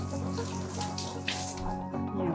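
Warm water runs through a paw washer at a dog bath, giving a continuous close splashing flow with faint gurgles and small drips.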